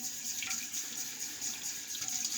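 Tap water runs in a sink to rinse a vintage Olaf Rasmussen straight razor, a quiet steady hiss with faint splashy fluctuations over a couple of seconds.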